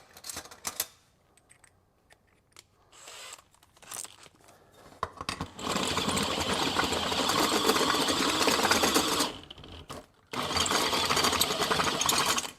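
A drill with a Diablo bit cuts a hole. Short sputtering starts build into long, loud grinding bursts with rough, rattling chatter, then a brief pause and another sustained cut.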